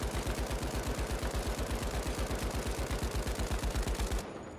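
M60 and Lewis gun machine guns fire in the video game The Finals as a fast, evenly spaced stream of loud, punchy shots, rattling continuously for about four seconds before cutting off abruptly.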